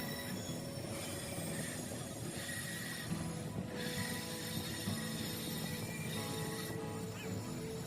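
A passenger train travelling through hilly country, a steady rumble of wheels and carriages with faint squealing and rattling, continuous and fairly quiet throughout.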